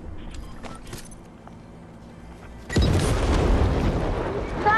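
A bomb in the battle royale game Fortnite goes off with a sudden loud boom partway through, followed by a rumbling, crackling blast tail, after a quieter stretch with a voice talking.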